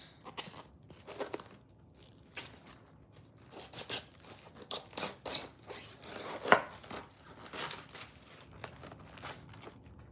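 A knife cuts around the core of a head of cabbage, giving a series of irregular crisp crunching chops and slices, close but fairly quiet, with one sharper crack near the middle.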